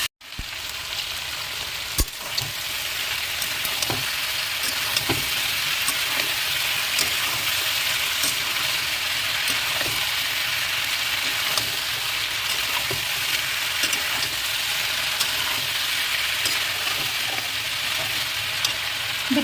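Turmeric- and salt-coated chicken offcuts frying in a pan with cumin, giving a loud, constant close sizzle with scattered spatula clicks and scrapes throughout, no talking.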